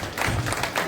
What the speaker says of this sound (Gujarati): એમને આપણે તાળીઓથી વધાવી મિત્રો